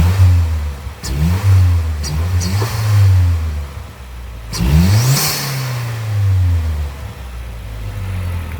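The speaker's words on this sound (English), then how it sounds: "give it some revs" A 2010 Mazdaspeed 3 with an oil catch can revs in quick throttle blips that rise and fall, followed by a longer sustained rev, loud and close, with no talking.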